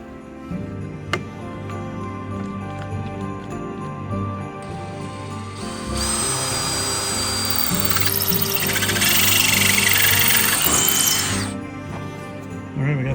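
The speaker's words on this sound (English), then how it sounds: "So I'm going to drill holes in these" A power drill bores holes through elk antlers, its motor whirring steadily and rising into a louder, higher grinding whine partway through as the bit bites into the bone.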